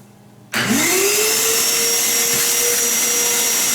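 A cyclone dust collector switches on after a short quiet moment, its motor spinning up with a rising whine and settling into a steady, loud suction roar with a high tonal hum that holds to the end.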